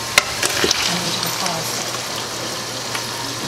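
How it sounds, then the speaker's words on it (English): Spoon stirring a meat and sauce mixture in a pot, a soft sizzling bubble with a few scraping clacks near the start, then a steady low simmer. "We're going to stir that meat mixture up."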